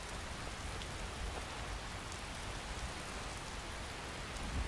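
Steady rain in the Skyrim video game, a faint, even hiss of falling drops with no voices.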